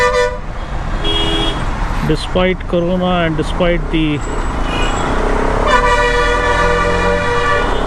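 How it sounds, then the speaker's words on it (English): Vehicle horns honk repeatedly in busy traffic around a bus, loud and close in several insistent bursts, mixed with engine noise while someone talks over them. "this guy is honking the hell out of the bus"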